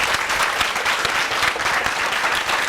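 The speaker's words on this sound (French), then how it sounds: "Acclamation pour vous encore." An audience at an event in Burkina Faso claps steadily, a dense and even burst of applause that fills the short stretch at a fairly loud level, with no voices standing out.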